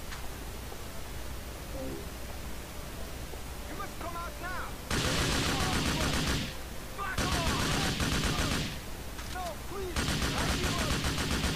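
Sustained bursts of Draco rifle fire in Grand Theft Auto IV, three long loud volleys separated by brief pauses, with a voice talking over parts of the shooting.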